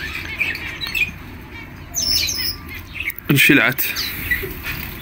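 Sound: bird squawking

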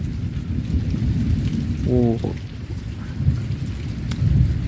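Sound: rain at night with thunder

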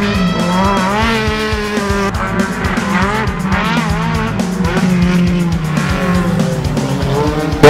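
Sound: race cars overtaking at Catarinense motor racing event

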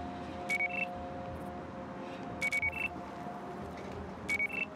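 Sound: alarm sounding in the video game Battlefield Hardline

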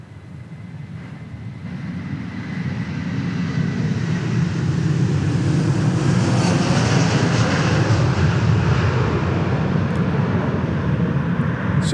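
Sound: Dallas Mavericks Boeing 757 team plane departing

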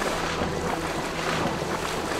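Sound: waterfall in the video game Divinity 2

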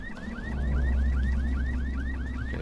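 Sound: car alarm in the video game Dying Light

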